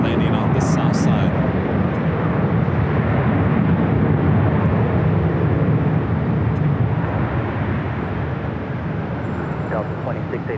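A Boeing 747 lands on the south side of LAX airport with a loud, rumbling jet roar that fills the scene and eases slightly toward the end, heard from outdoors at some distance.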